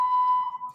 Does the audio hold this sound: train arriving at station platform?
no